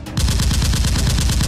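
Rapid bursts of toy Nerf gun fire in a staged action fight, a loud, fast string of repeated shots without pause.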